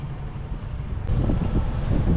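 Cold wind blowing beside a river in the Netherlands, a steady rough buffeting rush that swells louder partway through, with no talking.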